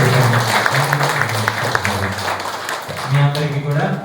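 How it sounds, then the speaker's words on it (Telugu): Applause from a congregation at a church gathering for a widows' day event, scattered clapping that runs beneath a voice speaking over it, fading somewhat near the end. "గట్టిగా చప్పట్లు కొట్టి"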